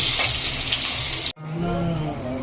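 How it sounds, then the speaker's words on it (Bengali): Potatoes frying in a pan with salt and turmeric give a loud, steady sizzle that breaks off sharply midway, then resumes as a softer crackling fry. "একটু লবণ হলুদ দিয়ে প্রথমে আলুগুলো একটু ভেজে নিয়ে চলে"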